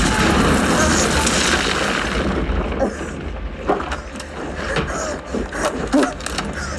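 War film explosions and gunfire, with mortar rounds falling and shots flying, played through a Samsung Q930F soundbar: a dense, loud rumble of blasts giving way to scattered sharp cracks and impacts over a busy background.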